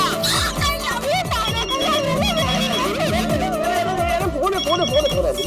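A telephone rings in a sitcom scene, with repeated bright trilling rings over background music and voices.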